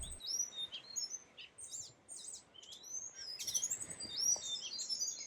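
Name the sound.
birds singing at sunrise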